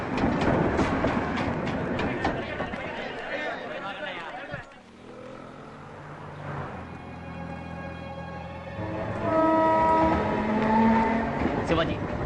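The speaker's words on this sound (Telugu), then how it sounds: "రైలు వచ్చే టైం అయింది." A train pulls into a station with rumbling wheels, and a sustained horn sounds near the end, all under steady overlapping talk.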